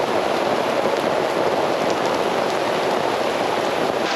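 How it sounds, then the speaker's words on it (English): Heavy rain pours down at Pulang Bato Falls in Valencia near Dumaguete. A dense, steady wash of drops roars loud and close the whole time, with no voices. "Started raining really strong, but hopefully it just passes."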